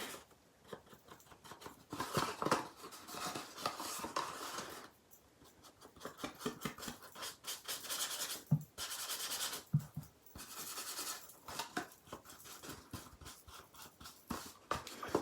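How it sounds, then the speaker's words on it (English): Ink being sponged onto a craft box: soft, close, continuous dabbing and rubbing pats in uneven bursts, with brief pauses. "I'm going to sponge this entire box, and then I'm going to sponge these layers."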